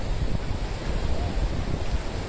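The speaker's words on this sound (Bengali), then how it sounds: "বাতাস, কি সুন্দর বাতাস, কি সুন্দর পরিবেশে" Steady seashore wind roars across the microphone with a broad rushing wash beneath it, loud and continuous, with no voices.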